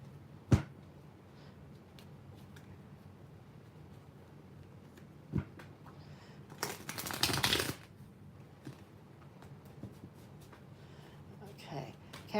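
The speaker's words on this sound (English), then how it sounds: "I just want to do a couple quick shuffles here." Tarot cards are shuffled in a quick riffling burst after a few scattered taps and clicks, close and fairly quiet.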